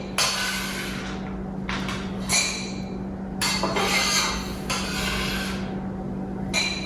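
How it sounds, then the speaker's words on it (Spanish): Almonds poured into a container in a home kitchen while making granola, a few loud rattling, clinking bursts of nuts striking the vessel, close up with a steady low hum beneath. "las voy a verter aquí en mi recipiente"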